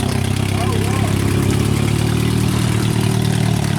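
Demolition derby car engine rumbling loudly as it idles and rolls past at a county fair, a constant near drone with people talking over it.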